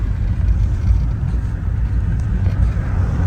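A car passing close by on a snowy, slippery road in Aktau at night: a steady low engine and tyre rumble, fairly loud and continuous, with no voices.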